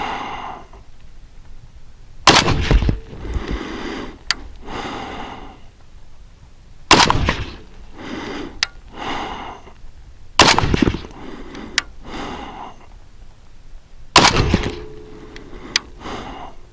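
Rifle shots from an RDB Zero fired with pencil and medium barrels, with and without a flash hider: four sharp, loud reports spaced a few seconds apart, each with a brief echo and quieter handling noises between.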